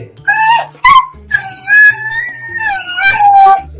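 A cartoon dog whimpers in fear with high, wavering whines and short yelps, loud and close, in a series of drawn-out cries.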